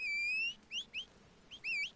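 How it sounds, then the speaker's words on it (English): Several rising whistles from a rider in the Red Dead Online western game calling a horse, first one long sustained note, then short chirped pairs, with no talking over them. "And you whistle, and your horse comes, no matter where you're at, most of the time."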